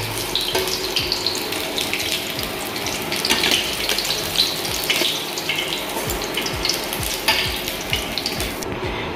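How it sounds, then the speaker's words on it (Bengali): Cornflour-coated paneer fries in oil over low heat, giving a close, continuous bubbling sizzle with repeated clicks and scrapes from stirring. "তো হালকা আঁচে এরকমভাবে নেড়ে চেড়ে ভেজে নিতে হবে"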